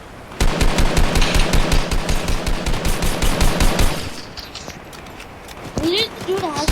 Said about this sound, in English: Okay, they're shooting.